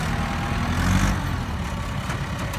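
A heavy Kubota M5000 tractor engine drones steadily while pushing soil, revving slightly as the wheels spin without gaining grip.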